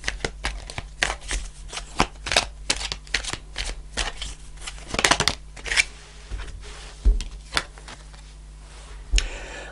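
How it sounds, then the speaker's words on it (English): Tarot cards are shuffled and drawn in a quiet room, a steady series of soft, crisp flicks and riffles with a few sharper slaps as cards are pulled, close and alone without talking. "I'm going to pull one more card,"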